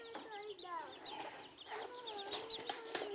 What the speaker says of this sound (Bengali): এই যে আমার নানু মুরগি